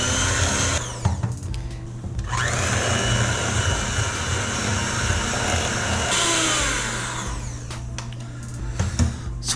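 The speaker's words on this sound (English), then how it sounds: "Now we're going to go ahead and add in the vanilla extract and beat it until incorporated." An electric mixer beats cream cheese icing with vanilla extract for carrot cake, a steady close, loud motor whine with grinding, scraping texture running throughout and shifting in pitch as the beaters work.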